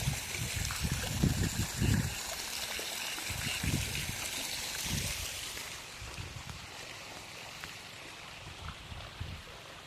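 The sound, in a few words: irrigation water flowing from well pump in field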